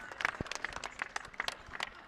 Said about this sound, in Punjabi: ਤਾੜੀਆਂ ਤਾੜੀਆਂ ਮਾਰੋ ਜੀ ਤਾੜੀਆਂ।